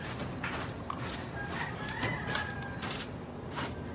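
Chickens and roosters kept in a cage, a dense, continuous chorus of clucking with a brief crowing call, close and steady throughout.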